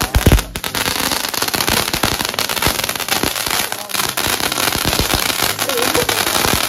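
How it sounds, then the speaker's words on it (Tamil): A lollipop-shaped firecracker from Sivakasi going off, a loud initial bang followed by a dense, continuous crackling burst that stays intense throughout. "இந்த லாலிபப் வந்து சாப்பிட்ற லாலிபப் கிடையாது, இது வந்து வெடிக்கிற லாலிபப்."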